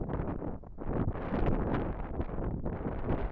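Gusty wind buffets the microphone at a fishing lake beside a feeder-fishing peg, a steady broadband roar with surges that rise and fall throughout, loud and close.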